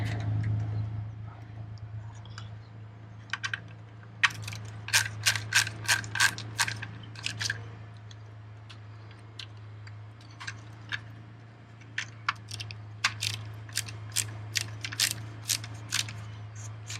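Screws are undone in stages from a BMW E39 dash instrument cluster, giving bursts of sharp ratcheting clicks from a hand tool, close and fairly loud, in two groups over a steady low hum, with no talking.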